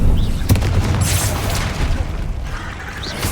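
A Confringo fire spell explodes in a Hogwarts Legacy battle, a loud close boom with a low rumbling tail, followed by crackling bursts and lighter pops.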